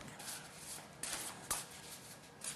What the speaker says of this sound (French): Je vais vous demander de mélanger les cartes